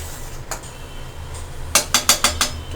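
Metal spoon scraping and clinking against a cooking pot while stirring spices for a rohu fish curry, a faint tap early on, then a quick run of five sharp, close, evenly spaced clinks.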